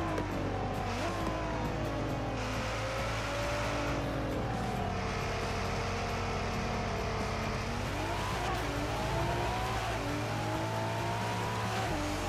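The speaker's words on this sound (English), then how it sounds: "That V6 sounds incredible." A V6 car engine in the video game Forza Horizon 4 revs and shifts through gears in a loud, continuous racing drone, pitch climbing and dropping with tire squeal, and no talking.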